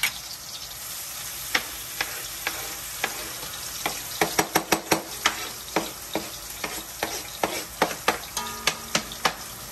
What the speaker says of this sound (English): In goes the onions, the cilantro, the garlic, pretty much everything that I have chopped up on the cutting board